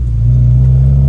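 A freshly rebuilt Honda Civic SiR engine runs on its first drive, a loud, close, steady low rumble with a strong hum and no talk over it.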